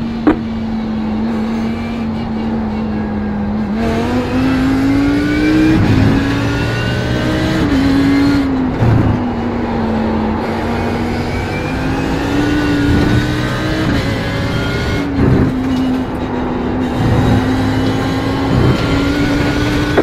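Race cars from the iRacing sim in an Autobahn league race: a steady, loud engine drone with rising and falling pitch as cars accelerate and pass close by, continuous through the stretch with no talk.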